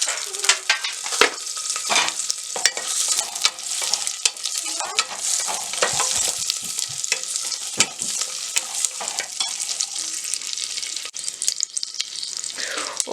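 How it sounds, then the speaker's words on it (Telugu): About two tablespoons of cashews fry in a pan of hot oil with green chilies, a loud, continuous crackling sizzle close by, broken by scraping stirs. "2 టేబుల్ స్పూన్స్ వరకు జీడిపప్పు వేసుకొని ఫ్రై చేసుకోవాలి"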